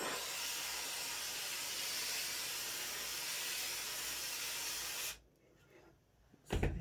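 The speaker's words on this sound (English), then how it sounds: "I'm going to steam this." Handheld steamer hissing steadily and loudly while blocking hat veiling, a broad continuous rush that stops abruptly after about five seconds, followed by quiet and a short burst of handling noise at the end.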